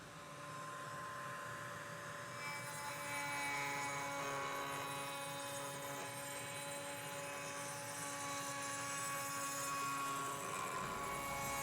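A Bosch RA1171 router table runs with dust extraction attached, giving a steady, high-pitched whine with a whooshing airflow roar that holds evenly for about twelve seconds, with no talk.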